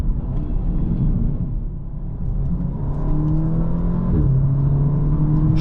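An Audi S3 8V sedan, Phase 1, accelerates on the road: a deep engine rumble and whir rises steadily in pitch and holds strong, heard from inside the car with no talking.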